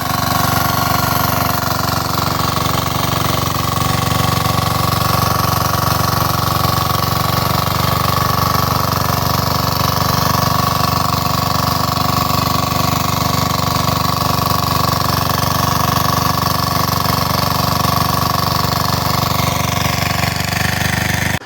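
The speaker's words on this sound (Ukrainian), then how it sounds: "Зараз ви будете дивитися, як ця фреза працює." A Motor Sich active rotary tiller runs on a walk-behind tractor, the engine roaring loud and close with a constant droning, rattling hum that holds steady for the whole stretch, with no voices.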